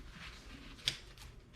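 A single sharp scissor snip cutting through a piece of sponge for a DIY vase project, quiet and brief against a faint room background.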